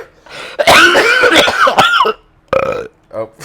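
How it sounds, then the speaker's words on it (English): A man coughing and clearing his throat up close, loud raspy bursts followed by a burp-like grunt and a short snort after a pause. "I coughed"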